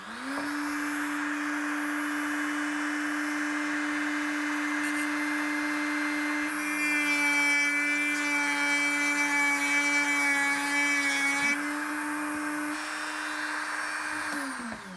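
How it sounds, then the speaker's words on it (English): Engraving tool marking the splined tailshaft of an RA23 Toyota Celica, a steady close electric whine with a constant hum running throughout, growing slightly harsher midway, with no talk. "I'm just gonna put a little engraving mark in there"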